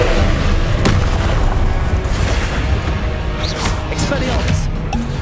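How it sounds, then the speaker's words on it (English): Spell explosions from the Confringo fire curse in the Hogwarts Legacy video game, a run of loud booming blasts and crackling bursts over a dense, continuous battle din with spoken incantations mixed in. "Confringo!"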